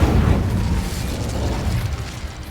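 An Incendio fire spell blast in Hogwarts Legacy: a loud, close whooshing roar of flame bursts at once and rumbles on steadily, slowly easing toward the end.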